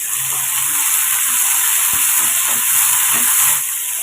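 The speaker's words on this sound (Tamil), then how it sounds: "தக்காளி ஒரு தக்காளி. இதை இப்போ 2 நிமிஷம் நம்ம நல்லா வதக்கி எடுத்துக்கோங்க. இதில் கொஞ்சமாக மல்லியிலையும் சேர்த்து வதக்கி எடுத்துக்கோங்க." Tomatoes, Kashmiri chillies and coriander leaves sautéing in a hot pan, a steady close sizzle and hiss with faint stirring scrapes throughout.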